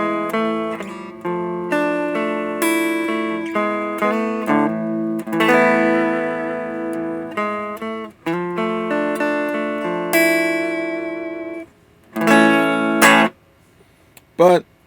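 Electric guitar played through a LEKATO GA-02 5W mini amplifier, picked up by a room microphone: a run of distinct plucked notes and chords, some ringing out and others cut short, then a louder strum and a sharp final note.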